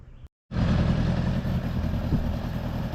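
A 1975 Honda GL1000 motorcycle engine, its carburetors just adjusted, idles after a brief silence: a steady, even low throb that stays close and unbroken.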